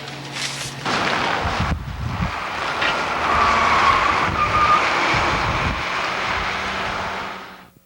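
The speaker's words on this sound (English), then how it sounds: "Terry, we're leaving Rods now and driving up Trans Canada" A car travels along the Trans Canada highway, a steady broadband road and engine roar with wind rush that holds loud for several seconds before fading out at the end.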